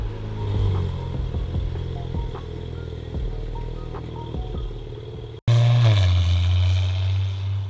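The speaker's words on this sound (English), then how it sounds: "So he's gonna pull the car out now, and then we'll meet you guys outside." An Audi B9 S4 with a catless downpipe and Stage 2 tune idles and clatters, with scattered knocks. After a brief cut it comes back louder with a deep, droning rise as the engine is revved.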